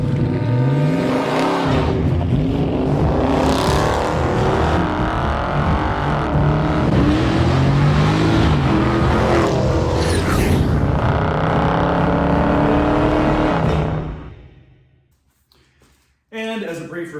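A 2023 Toyota Camry XSE V6 drives with a loud, continuous engine roar and a rising revving tone that builds and holds for about fourteen seconds, then cuts out briefly before the engine noise returns.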